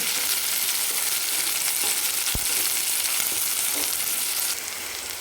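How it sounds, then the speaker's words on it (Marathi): Capsicum sautéing in hot oil for chicken masala pav, a dense, even sizzle filling the clip with a single sharp knock partway through, quieting slightly near the end. "याला पण तेलावर आपल्याला दोन मिनिट परतून घ्यायचे"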